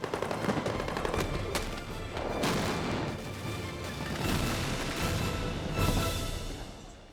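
Special effects explosions and gunfire on the Pearl Harbor war film set, dense rolling booms and rattling bursts that pile up continuously with heavy concussive hits at intervals and no talking.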